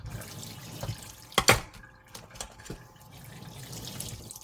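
Tap water running and splashing in a sink while seafood such as mussels and crab is washed for Korean seafood stew, a steady stream with sharp splashes and clinks midway.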